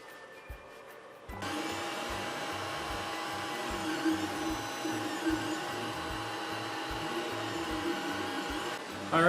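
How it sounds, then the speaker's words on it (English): An Anycubic i3 Mega 3D printer runs a print after its bed has been leveled, its stepper motors whirring and buzzing in a steady pulsing rhythm with a constant fan hum, close and fairly loud, starting abruptly after a quiet second. "It's printing along."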